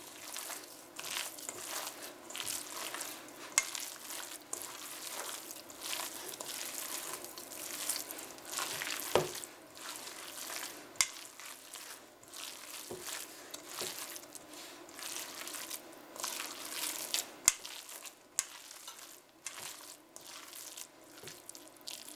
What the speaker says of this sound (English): You have to just mix it with your hands.